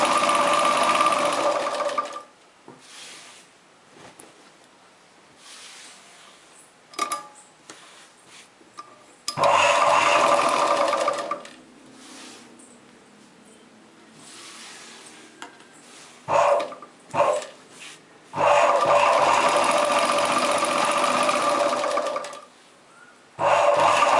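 A sewing machine stitches the sides of a chudidar top in several runs of steady close whirring, separated by quieter pauses with small handling noises.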